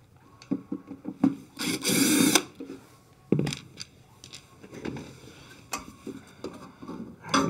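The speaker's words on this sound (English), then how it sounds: "we can remove our three Phillips screws of the condenser fan motor bracket" Phillips screws being backed out of the condenser fan motor bracket on a GE refrigerator, with intermittent close driver whirs, scraping and rubbing of metal parts, and a longer buzzing burst of the tool.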